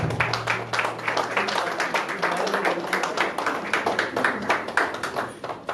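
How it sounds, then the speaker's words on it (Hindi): An audience claps loudly to welcome a guest at the 13th Natsamrat Theatre Award ceremony, a dense, sustained round of applause that stays even throughout. "उनका जोरदार तालियों से स्वागत"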